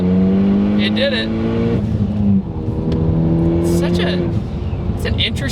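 A Ford Focus ST four-cylinder fitted with a big aftermarket turbo pulls hard from a rolling start in first gear, engine tone rising steadily with whooshing turbo and blow-off bursts, loud from inside the car.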